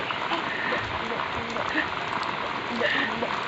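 Steady rain falls outdoors in Indonesia, a soft, continuous hiss of drops at moderate distance, even and unbroken throughout, with no clear speech over it.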